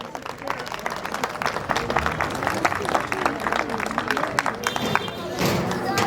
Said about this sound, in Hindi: मोहन जी भाई साहब और डीपी पचीसिया जी के लिए जोरदार तालियां बजनी चाहिए